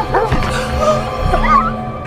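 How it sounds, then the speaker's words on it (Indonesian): A dog in a movie scene gives a few short barks and whimpering yips against a busy soundtrack background. "anjing mereka menggonggong tanpa sebab"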